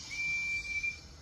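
Percy the little steam engine gives a single thin, high whistle, a steady near tone held for most of a second against a soft background hiss.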